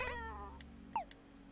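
A cat in the video game Momodora: Reverie Under the Moonlight gives a short, close meow over a steady low game background hum, followed by a couple of faint clicks.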